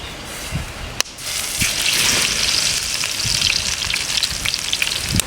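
Garlic drops into hot oil in a pan for goat blood fry with a sharp clack, then a loud, steady frying sizzle follows with a few stirring knocks.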